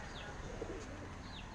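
Domestic fancy pigeons on a rooftop coo faintly through a steady, hissy background, with a soft call or two rising briefly.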